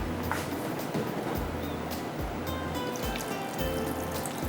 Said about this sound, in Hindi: इसके अंदर हम डालते हैं पानी